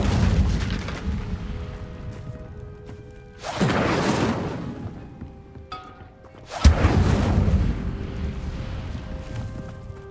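Incendio fire spell cast twice in the Hogwarts Legacy video game, each a loud whooshing burst of flame lasting a couple of seconds, separated by quieter game ambience.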